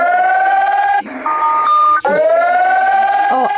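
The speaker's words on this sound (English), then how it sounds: "Oh, actual alarm." An Emergency Alert System alarm tone: loud, steady two-tone electronic blaring that runs almost continuously, with brief breaks and shifts in pitch partway through and near the end.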